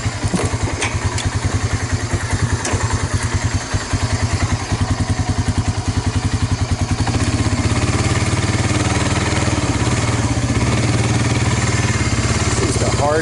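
A 1986 Suzuki Quadrunner LT125 ATV running low on gas, its small single-cylinder engine chugging in a rapid rhythm close by, then revving into a steadier louder drone, with some voice in the background.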